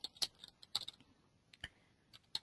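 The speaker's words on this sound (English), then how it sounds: "And I'm going to type in" Typing on a computer keyboard to enter a map title: a few quick bursts of key clicks with pauses between them, fairly close and quiet, with no voices.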